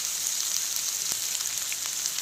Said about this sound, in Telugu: మంచి వేగనివ్వండి.